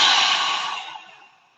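A single long, breathy exhale during a breathwork session, loud at first and then tapering away to near silence.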